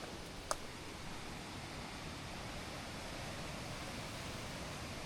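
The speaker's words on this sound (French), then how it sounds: "Oh, il y a des cascades!" Waterfall cascades beside a mill on an outdoor walk, heard as a steady, loud broadband rush that continues without a break, with one brief click near the start.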